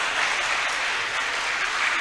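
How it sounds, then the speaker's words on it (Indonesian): An audience at a national seminar on stunting applauds with dense, steady clapping that holds at an even loudness from start to finish. "Tepuk tangan buat Setikes Bakti Al-Qadiri."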